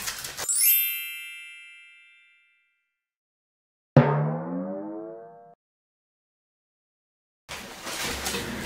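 Two chime-like mobile phone notification tones ring out, a bright ringing ding that fades over about two seconds, then a second descending melodic alert, before background noise returns.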